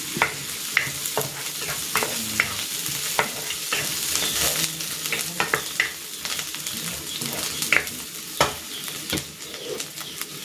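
Onion and lemongrass sautéing in a hot pan for native chicken tinola, a steady close sizzle broken by repeated sharp scrapes and clacks of a stirring utensil, with no voices.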